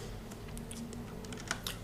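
Light typing on a computer keyboard, a quick scatter of soft key clicks with a couple of sharper taps near the end, close but quiet over a low background hum, no speech.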